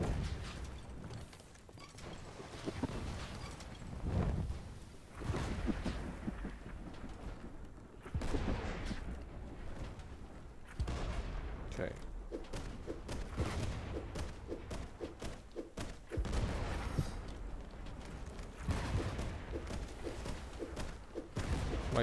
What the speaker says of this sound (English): Come back upstairs and shoot the cannon, the front cannon.